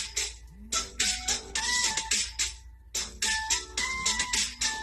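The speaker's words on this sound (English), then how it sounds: "That's my phone." A mobile phone ringtone plays a bright repeating electronic melody in short bursts, loud and close, with no one speaking over it.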